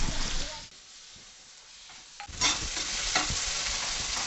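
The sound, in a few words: tomato being stirred and cooked in oil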